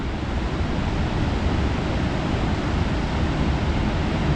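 Ocean surf at Depoe Bay roars steadily and loudly, a dense continuous wash of breaking waves with no voices over it.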